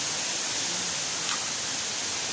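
Gabriela Falls roars as a constant, dense wash of rushing water, loud and unbroken, filling the whole scene with steady noise and no voices.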